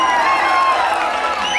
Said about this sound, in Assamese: হাত চাপৰি দিব লাগে একেলগে